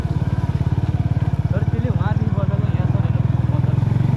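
A motorcycle ridden through monsoon weather on a wet road to Ama Yangri, its engine thumping in a fast, steady pulse close by, with faint voices in the mix.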